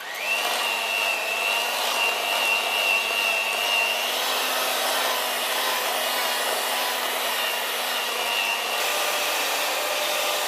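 An electric mixer creams 2 cups of sugar with 1 cup of butter for a 1-2-3-4 cake, a loud steady motor whir with a faint high whine running throughout.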